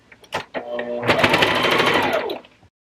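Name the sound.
sewing machine basting a fabric tunnel for a gift bag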